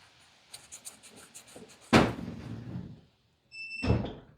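A shed door bangs in the wind: a loud wooden bang, followed by a rumbling rattle, then a second knock after a brief silence, with faint tapping and scraping beforehand.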